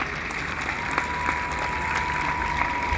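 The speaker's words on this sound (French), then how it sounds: "je voudrais que vous puissiez faire un tonnerre d'applaudissements pour toute l'équipe de Romantic Love" A crowd at a farewell show breaks into sustained, dense applause, a steady even roar of many hands clapping that fills the room without voices.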